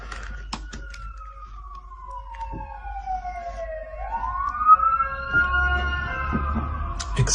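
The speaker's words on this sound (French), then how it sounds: "On a les ambulances qui vont passer." An ambulance siren in the United States wails in long sweeping glides, falling and then rising in pitch. It grows louder as the vehicle draws near, with faint clicks and background noise around it.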